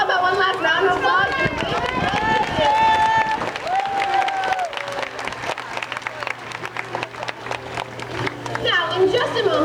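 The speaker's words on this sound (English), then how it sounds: "how about one last round of applause?" A crowd claps and cheers at an aquarium sea lion show, the applause steady and close, while an amplified voice talks over it and high whistle-like tones sound near the start.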